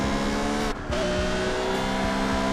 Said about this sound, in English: I had the chance to play on this Japanese championship, which allowed me to drive my dream car, a Honda NSX Type R.